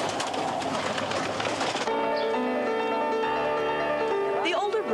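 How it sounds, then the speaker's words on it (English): Many pet birds kept at a bird keeper's home in Minnesota chirp and coo together in a dense, continuous chorus, with a steady hum and whistly tones joining partway through. "a Minnesota resident known as the Birdman treats his feathery companions, over 100 of them, as part of the family"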